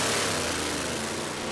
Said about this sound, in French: Un départ assez délicat, le tracteur saute.